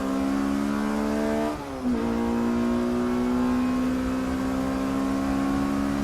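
A race car laps the Snetterton circuit with its engine droning loud and close. There is a brief dip as it shifts gear, then a sustained steady whine at high revs.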